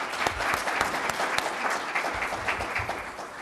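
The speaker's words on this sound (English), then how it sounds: "let's give them a round of applause for this one" An audience gives a round of applause at a public meeting, a dense, steady burst of clapping from a crowd that carries on for a few seconds without talk.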